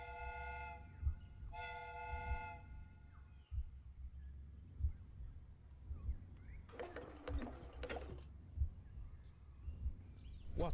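A replica steam train built from a pressurised fire extinguisher sounds two clear whistle blasts near the start, over a steady low rumble of running, followed later by a burst of hissing steam.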